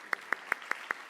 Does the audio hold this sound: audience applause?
yes